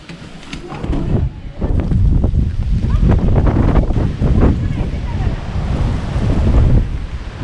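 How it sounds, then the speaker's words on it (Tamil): Strong wind gusts through a snowstorm outdoors, roaring and buffeting the microphone in a loud, continuous rush that swells and dips over several seconds. "செம்ம காற்று வர அடிக்குது."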